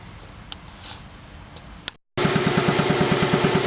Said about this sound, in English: Which now I got the compressor building up some air.